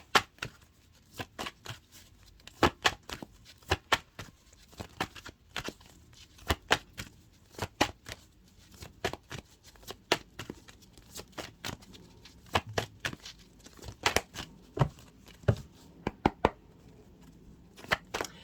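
A numerology card deck is shuffled by hand, with crisp rapid riffles and sharp card snaps repeating in irregular bursts, close and clear with no talking.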